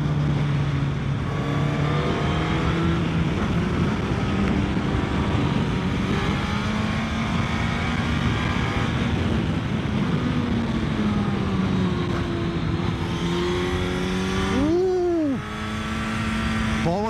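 Suzuki GSX-S 1000 GX motorcycle engine droning steadily while riding, its pitch rising and falling through gear changes, with a sharp rev sweep near the end over wind noise.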